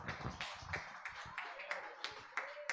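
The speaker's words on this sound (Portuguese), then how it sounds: "Receba o presbítero aplaudindo a Jesus nessa noite." A church congregation claps at an evening service to welcome a presbyter. The claps are close, loose and irregular and mix with voices and a faint sustained tone in the background.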